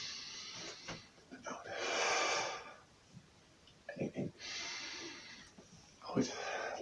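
Slow, deep breaths during a breathing exercise come as two long, loud airy exhales separated by quieter stretches with short sniffs and soft breath noises.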